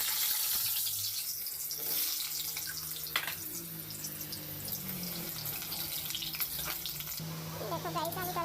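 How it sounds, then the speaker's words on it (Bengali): Potatoes fry in hot oil for a chicken curry with a soft, continuous sizzle, while water runs and splashes from a tap and dishes clink nearby; no speech is heard. "আলুটা ফ্রাই করে নেব"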